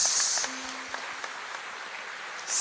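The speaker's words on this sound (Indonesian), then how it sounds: "tepuk tangan untuk OKS" Audience applause at a stand-up comedy show, given for a performer named OKS: a short burst of clapping that fades quickly, a quiet stretch in between, and clapping rising again at the very end.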